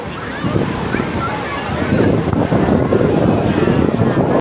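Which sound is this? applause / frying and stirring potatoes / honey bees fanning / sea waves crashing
sea waves crashing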